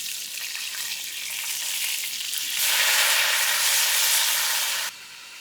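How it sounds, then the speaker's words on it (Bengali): Large catla fish fries in oil in a wok with a steady hissing sizzle that swells louder midway, then cuts off abruptly, leaving a quieter background; no one speaks. "মাছ ভাজা হয়ে গেছে, এখন আমি উঠে গেলাম।"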